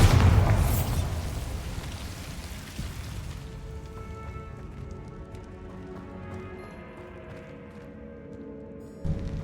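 Bombarda spell blast in the Hogwarts Legacy video game: a loud, booming burst at the start that fades over several seconds into a low rumbling decay, with a smaller thump near the end.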